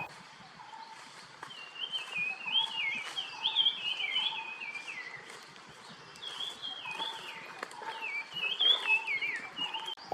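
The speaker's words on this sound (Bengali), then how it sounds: "প্রচুর ব্রাউন চিট ফুলভেট্টার কল তো আছেই ব্যাকগ্রাউন্ডে" Brown-cheeked fulvettas call in the forest of Satpura Tiger Reserve: clear, whistled descending phrases repeat from several birds at moderate distance over a soft background hiss, with no talking.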